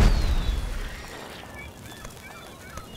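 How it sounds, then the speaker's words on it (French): An exploding ball in the Shrek Forever After video game: a loud booming blast at the start that decays into a noisy tail, with honking, goose-like game sounds faint over it. "Un ballon qui fait peur et qui explose."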